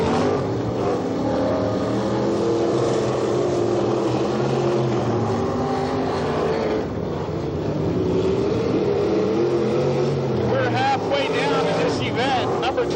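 Micro sprint race cars roar around a dirt track, engines snarling loudly and continuously as they pass and rev through the turns, with a commentator talking over the racing.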